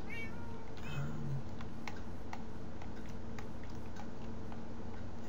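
An ocelot in the Minecraft video game meows a few times near the start, followed by a series of sharp ticking clicks spaced across a quiet background.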